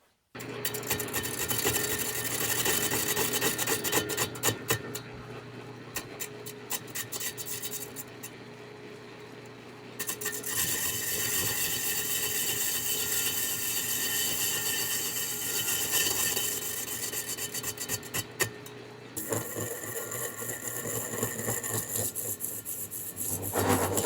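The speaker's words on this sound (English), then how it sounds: "let's get that weld cut off" A weld is cut off a machined part, with a continuous harsh rasping, buzzing cut that runs close and loud for most of the span, dipping briefly before resuming.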